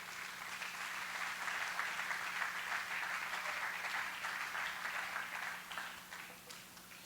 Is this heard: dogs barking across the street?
no